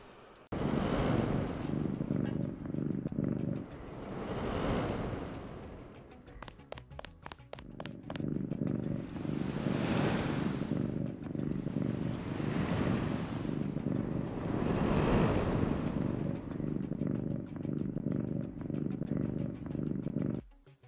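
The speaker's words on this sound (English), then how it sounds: "this cat killing and then coming back and eating rats is the best part about this mod" A cat purrs steadily in the Deus Ex Revision mod, a continuous rumbling drone that runs almost throughout, briefly dipping with crackly clicks in the middle, loud and close with no talk.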